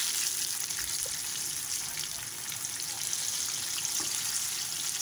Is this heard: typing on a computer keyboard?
no